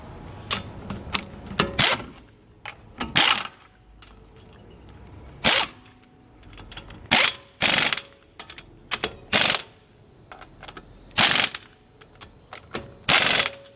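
A ratchet with a 19 mm socket turns on the outer tie rod of a 1997 Honda Civic, giving repeated bursts of loud metallic clicking separated by short pauses, close by with no talking.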